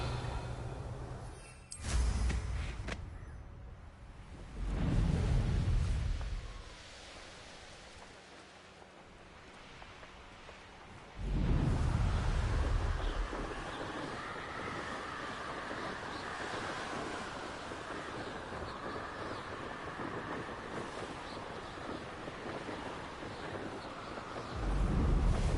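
A Hogwarts Legacy thunderstorm sends repeated deep rolling thunder blasts over a steady wash of wind and rain, with a quieter lull between the booms and a long sustained roar after the later crash.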